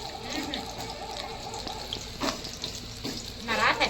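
Bhajiya fritters fry in hot oil, a steady close sizzle and bubbling running throughout while voices talk over it.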